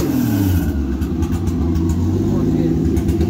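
Turbocharged 2JZ-GE engine in an MK3 Supra running on E85 with a rough, uneven idle, a loud low throbbing hum with a wavering pitch, while someone talks over it.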